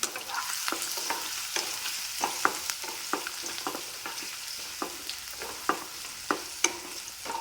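Five or six pieces of garlic are sautéed in a pan, a low steady sizzle broken by regular sharp clicks of a spoon stirring against the pan, close and without talk.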